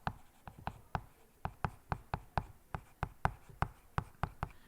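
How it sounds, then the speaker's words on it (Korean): Chalk or marker writing on a classroom board during a Korean history lesson, a rapid series of sharp taps and short strokes in a steady rhythm, close and clear with no talking. "이거는 여기다 써볼게요."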